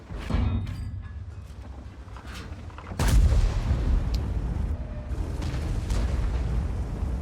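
A heavy cannon shot from a WZ-111 Qilin tank booms loudly midway, followed by rumbling engine and battle noise, with a softer blast earlier in the game scene.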